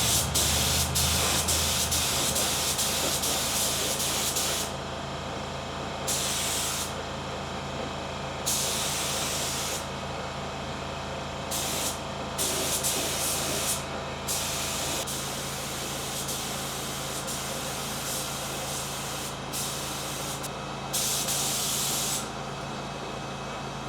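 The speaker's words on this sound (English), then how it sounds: "As you guys just saw, I sprayed one of the side skirts." A spray gun priming a car side skirt on an S13 project car, with repeated loud hissing bursts of a few seconds each, separated by short pauses, over a steady background hum.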